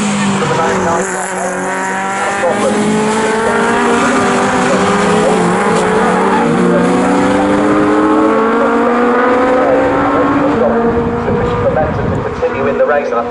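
Legends race cars circuit Snetterton during a national championship heat, several engines droning and shifting pitch together in overlapping rising tones, loud and continuous beneath a commentator's voice.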